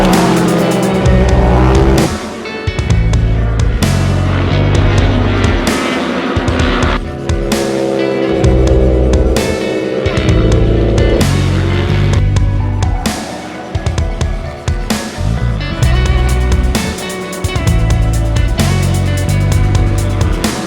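A turbocharged race car laps the Bark River track, its engine loud and close, revving hard through gear changes with repeated surges and lifts, tire squeal on corners, and no voices.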